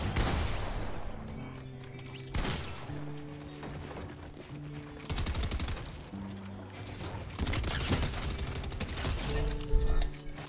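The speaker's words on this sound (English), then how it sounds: "Just SMG'd him to death." SMG gunfire in the video game Fortnite comes as rapid automatic bursts in several separate volleys, loud and close over game effects and a steady musical tone.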